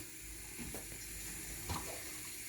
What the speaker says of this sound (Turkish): kaynamış irmik tatlımızla döküyoruz